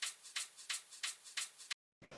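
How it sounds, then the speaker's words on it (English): A small percussion hit in a trip hop drum beat taps about every third of a second in a steady pattern of bright, crisp strikes, then stops briefly before two more quick hits. "It's just this little percussion sound."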